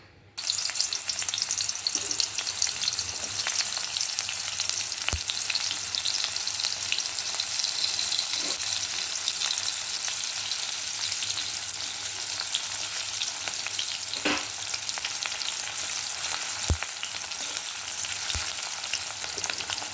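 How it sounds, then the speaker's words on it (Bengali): Onion frying in hot oil seasoned with black cumin seeds, a continuous close sizzle with occasional sharp pops and stirring scrapes throughout. "তো আমি তেলটা গরম হয়ে গেছে, কালো জিরে ফোড়ন দিয়েছি। এবার পেঁয়াজটা দেবো।"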